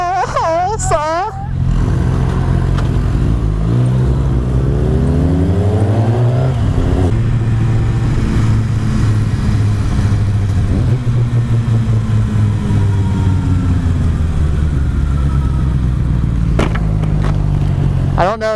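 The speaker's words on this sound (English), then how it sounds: "we downshifted at like the same time" A car engine in a racing video game revs continuously and loudly, pitch climbing and dropping through gear changes and downshifts, with a second engine note layered alongside.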